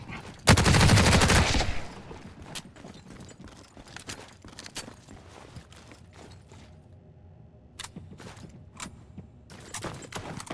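Automatic gunfire in the shooter video game The Cycle: Frontier, one loud, dense burst lasting about a second near the start, followed by scattered sharp clicks and footstep-like taps in a quieter scene.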